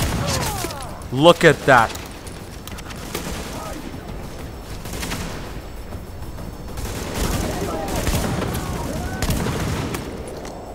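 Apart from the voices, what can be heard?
shotgun fire in The Division video game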